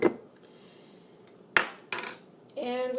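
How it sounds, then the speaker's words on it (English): A metal fork clinks against a cup or bowl while cocoa powder is stirred, giving a few sharp close taps and scrapes over a quiet background. "And we mix that up with a fork."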